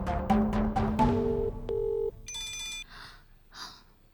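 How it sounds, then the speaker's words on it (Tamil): An incoming call rings on a phone in a Tamil TV drama, a loud melodic ringtone of bright repeating notes that stops after about two seconds, followed by a few softer electronic tones. "மாமா ஃபோன் பண்றாருடா."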